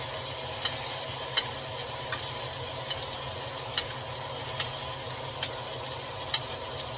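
Minced garlic frying in a pan while cooking steak, a steady soft sizzle running throughout with faint regular ticks and light clicks spaced across it.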